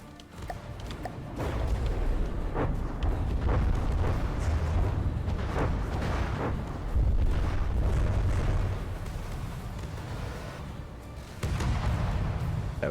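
Weapons fire and explosions in the From the Depths naval combat game rumble almost continuously, heavy low booms and bursts overlapping in a dense barrage that swells and drops for a few seconds before resuming.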